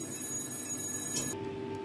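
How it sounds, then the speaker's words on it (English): A Grawostar 4 kW laser rust-cleaning machine sounds its start alarm: a steady electronic tone over constant machine hum, shifting to a lower single tone partway through. "This special machine is equipped with many sensors that sounds the alarm at start"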